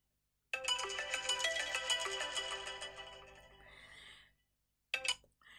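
A phone ringtone plays a bright, repeating melodic pattern for several seconds, fades out, then starts again briefly after a short gap.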